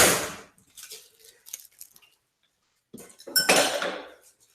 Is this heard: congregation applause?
no